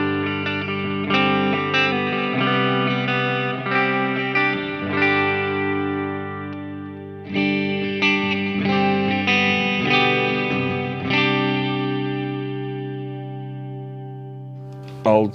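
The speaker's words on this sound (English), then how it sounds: "let me try and do both reverb and delay" Electric guitar played through an amp with reverb and delay running together, sustained chords and notes ringing out with echoing repeats and a long washy tail, loud and alone with no talk.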